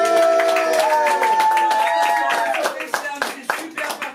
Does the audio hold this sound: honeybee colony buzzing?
no